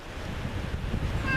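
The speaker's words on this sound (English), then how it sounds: "I'm sure you can hear" Strong wind on a very windy day gusts through nearby trees, a loud, continuous roaring rumble buffeting the microphone throughout.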